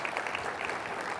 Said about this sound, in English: these folks, they deserve a round of applause